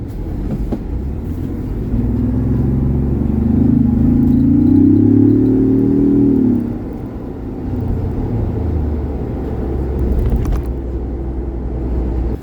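A 2021 Ford Bronco engine accelerates while driving, heard from inside the cabin as a steady low rumble that rises in pitch and swells for several seconds, then settles back into a constant road drone.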